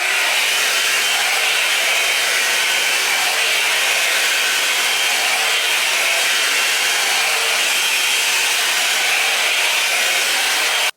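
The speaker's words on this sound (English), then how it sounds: "Yeah, going to blow dry my hair." A hair dryer runs continuously while blow drying hair, a loud, steady high-pitched whooshing hum that holds level for the whole stretch without pause or talk.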